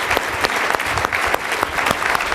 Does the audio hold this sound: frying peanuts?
no